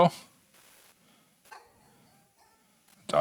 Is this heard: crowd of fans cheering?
no